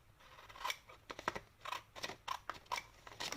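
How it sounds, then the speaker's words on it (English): Scissors snipping paper for a handmade card, a series of close, crisp cuts in an irregular rhythm, quiet and alone in a still room. "We don't want to waste any paper here, so I'm just cutting what I need."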